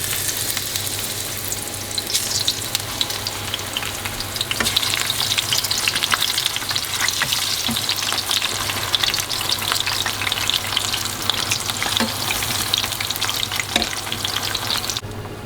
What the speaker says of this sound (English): let's fry the eggplant first